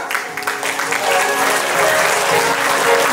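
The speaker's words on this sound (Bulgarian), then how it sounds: "Изпращаме задочни аплодисменти и за нея." Audience applause at the Cake Art Bulgaria Awards 2023 for a winner in the children's cake category, a dense, steady wash of clapping from a large crowd that holds at full strength throughout.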